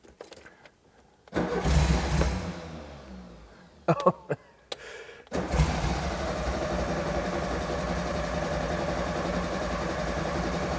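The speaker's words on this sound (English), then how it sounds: "I'd be happy if it cranks over just to get a bit of oil going before we fire it up" A Porsche 356 Speedster engine under restoration cranks in short bursts, stops briefly, then catches and settles into a steady, loud idle close by.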